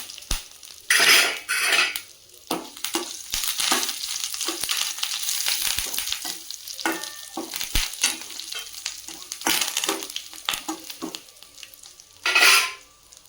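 Curry leaves and dried red chillies hit hot oil in a pan with loud bursts of sizzling, followed by stirring, scraping and metal clatter of a spoon against the pan at close range, without speech.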